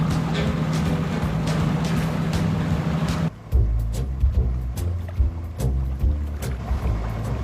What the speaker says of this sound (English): This boat is also a car.